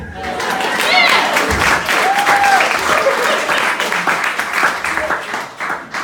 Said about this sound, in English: we can clap for Meg